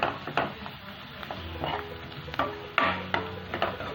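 Besan pitla mixture being stirred in a pan, soft scraping and clinking of a spoon against the pan in irregular strokes, quiet and close with a faint sizzle.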